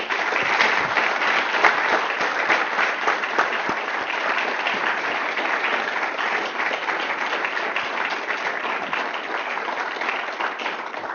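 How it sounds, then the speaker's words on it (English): An evening audience gives a sustained round of applause after a panel debate on the federal government's role in healthcare, dense, steady clapping filling the room for the whole stretch with no talk over it. "would you join me in giving them a round of applause?"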